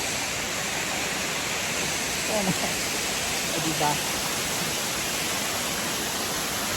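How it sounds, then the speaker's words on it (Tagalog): Steady, loud rushing of a waterfall at Grassi Lake fills the whole clip, with a person speaking briefly over the roar. "Ang ganda ng fall."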